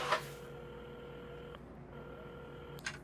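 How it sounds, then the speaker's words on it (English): A telephone being dialed in the video game Assemble with Care, heard as faint dial tones and short electronic beeps at the start and end over a quiet hum. "Carmen had started dialing the phone"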